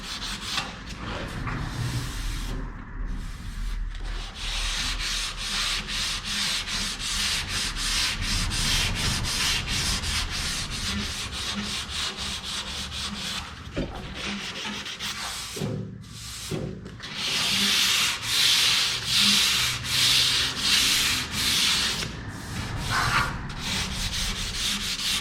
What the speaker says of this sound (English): Not taking much to sand, that's for sure.